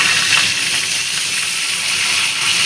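Fish fries in a hot pan for a Bengali niramish fish recipe, giving off a loud, steady, hissing sizzle that continues without a break and with no talking.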